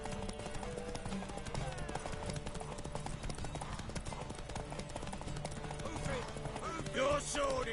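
Horse galloping in The Witcher 3, a fast continuous clip-clop of hooves throughout, up close, with game sounds and a little background speech.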